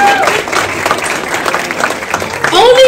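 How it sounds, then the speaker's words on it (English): Applause from an audience at an influencer talk event for a couple who arrived early, with a dense, steady patter of clapping under background voices and a brief tonal squeal at the start and end. "Can you give them a round of applause?"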